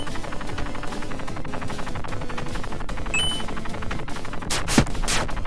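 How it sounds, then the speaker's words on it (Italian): Enemy gunfire in the retro-style platform video game Tiny Barbarian DX crackles as rapid, repeated shots over constant game music, with a couple of louder bursts near the end. "Tu spari prima, spari dopo, spari giusto giusto quando passo io."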